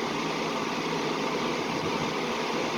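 A 2003 Lakewood model 202 electric fan runs steadily, its motor giving a constant broadband whooshing hum of moving air that holds even and unbroken throughout, close and moderately loud with no talking.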